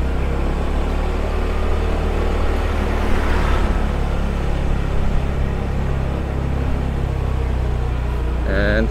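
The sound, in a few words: cars driving along a one-way street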